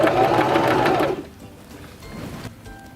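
A Singer Start 1304 sewing machine stitches a buttonhole bar tack in a quick burst of rapid needle strokes for about a second, then stops, leaving faint quiet handling noise afterward.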